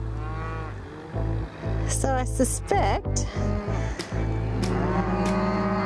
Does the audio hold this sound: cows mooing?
yes